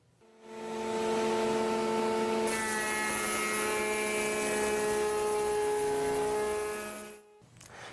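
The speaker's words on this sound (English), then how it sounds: "we'll make a profile cut on one edge of all the rails and stiles" A router fitted with a Freud adjustable rail and stile bit cuts a profile along a wooden rail edge, making a loud, steady high whine that holds for about seven seconds, then cuts off sharply.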